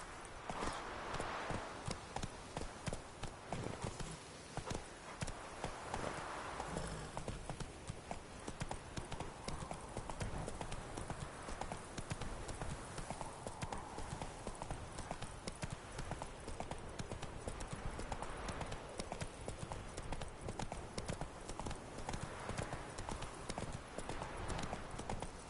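Roach, Geralt's horse in The Witcher, clip-clops steadily and close throughout, a continuous rhythm of hoofbeats with a voice speaking over parts of it.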